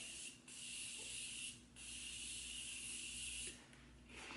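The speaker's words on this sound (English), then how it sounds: "To set everything in place, I'm just gonna use my Morphe Spray." Morphe makeup setting spray released in three short hissing bursts, close and crisp, with steady background noise between the sprays and no talking.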